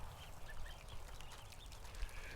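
A small flock of farm ducks quacks in brief, soft bursts nearby, the calls faint and intermittent over a low, windy outdoor rumble.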